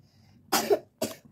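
A person coughs twice at close range after eating ice cream, a harsh double burst followed by a second cough about half a second later, with no talk during it.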